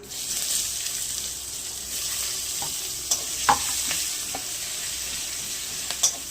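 Onion with green and dried chillies, bay leaves and whole garam masala frying in a pan for egg rice, a soft steady sizzle with a few light clinks of stirring.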